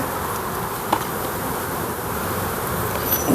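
Honey bees buzz around an opened hive as a steady, close, dense hum that carries on without pause, with no talking.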